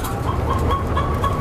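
A flock of white leghorn hens clucks and murmurs continuously, the soft overlapping calls close and steady against a dense barn-like background noise.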